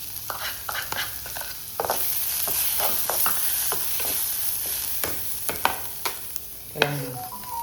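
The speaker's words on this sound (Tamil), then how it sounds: "வெங்காயம் தக்காளி பழம் போட்டு நல்லா வதக்கி வச்சுட்டு" Onion and tomato sauté in a hot pan, with a steady sizzle and repeated scrapes and taps of a spoon stirring, close and unbroken by talk.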